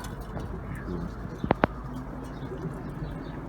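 Soft cooing of Sivas pigeons murmurs beneath steady background noise, broken by two quick, sharp chirps near the middle.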